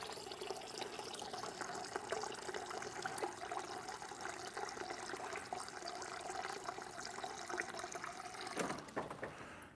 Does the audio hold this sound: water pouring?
yes